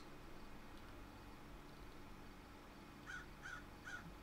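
A crow in the Roblox horror game Paralysis gives three quick, evenly spaced caws near the end, moderately loud over a quiet, hissing ambient background.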